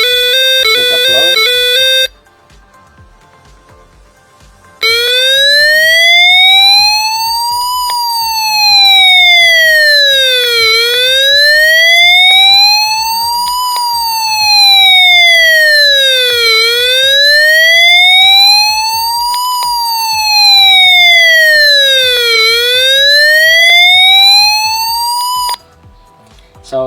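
A loud electronic police siren from a toy robot wails, its pitch sweeping slowly up and down in repeated cycles for over twenty seconds after a short beep.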